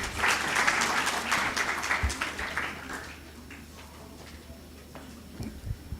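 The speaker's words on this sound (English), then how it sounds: "A round of applause as they go out." Moot court competition audience claps for about three seconds as participants leave the room, then the clapping fades to quiet room noise with a few faint knocks.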